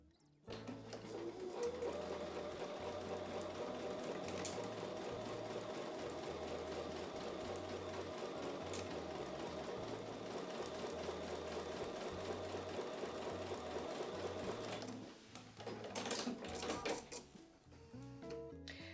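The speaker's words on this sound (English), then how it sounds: "So I'm going to take that over to the sewing machine and I'm going to sew it this way up" A sewing machine runs steadily while stitching a quilt block, its rapid mechanical needle rhythm close and loud for about fifteen seconds before it slows and stops.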